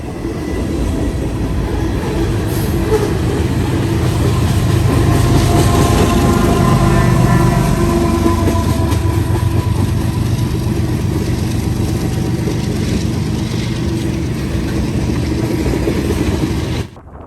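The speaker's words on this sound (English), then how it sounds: "this one a GE, an AC-45 CCTE, doing as hard as it can up the hill into Plattsburgh" A Union Pacific GE AC45CCTE locomotive works hard climbing a grade, its steady loud diesel roar and rumbling rail noise continuous and close throughout, with no talking.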